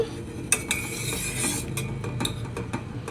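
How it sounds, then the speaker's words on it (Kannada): Sugar syrup for bread jamun bubbling in a pot, a soft steady simmer broken by a few sharp utensil clinks and taps near the pan. "ಇಲ್ಲಿ ಪಾಕ ಕುದೀತಿದೆ ನೀವು ನೋಡ್ಬೋದು"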